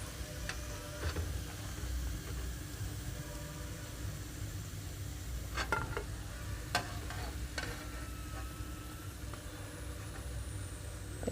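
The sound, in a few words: palm oil sizzling while heated with tamarind and ginger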